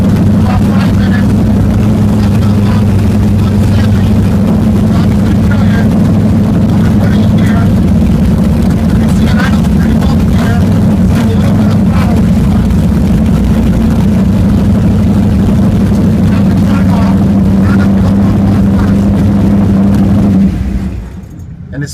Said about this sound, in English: So now it's warm, it idles great in gear.